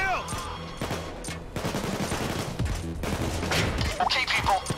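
Automated turrets in the video game Payday 2 fire dense, rapid bursts of gunfire that repeat through the whole stretch, loud and close, with a voice talking over parts of it.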